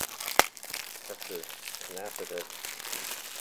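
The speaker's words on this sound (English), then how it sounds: "Oh gosh, the plastic on this one does not want to come off." Plastic shrink wrap being peeled and torn off an anime DVD case, a sharp crinkling snap near the start followed by steady close crackling and rustling under a voice.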